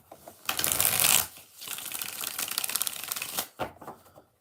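Tarot cards being shuffled by hand in bursts, a riffling flutter of card edges that stops and restarts several times, close and clear with no talk over it.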